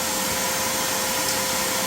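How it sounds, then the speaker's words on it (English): Loud shop vacuum roaring steadily as it sucks up drained coolant from a 5.7 HEMI during a water pump replacement, a continuous hissing whoosh with no change in pitch. "I used the vacuum to suck it up"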